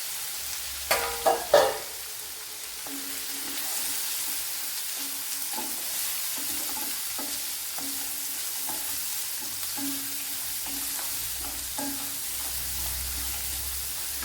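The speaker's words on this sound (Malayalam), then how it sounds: "ഒരു സവാള ഇതുപോലെ അരിഞ്ഞെടുത്തിട്ടുണ്ട്, അത് ഇട്ട് കൊടുക്കുക." Chopped onion for a quail egg thoran hits hot oil with a brief clatter, then fries in a long even sizzle broken by occasional stirring taps, up close and without voices.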